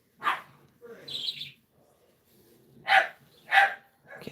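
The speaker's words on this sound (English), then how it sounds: "Colin, quit making her bark" A puppy gives several short, sharp yaps in bursts, the last two close together, heard nearby in a quiet room while crochet strips are worked into a rug.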